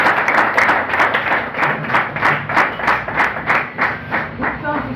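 An audience claps steadily at a gathering in rhythmic bursts, loud and close, with voices mixed in.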